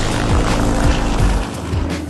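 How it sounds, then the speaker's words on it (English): A Sukhoi Su-26M aerobatic stunt plane's engine roars loud and close, its pitch sweeping down over and over in pulsing passes with steady propeller drone beneath. "the Sukhoi Su-26M is still the most sought-after stunt plane in the world"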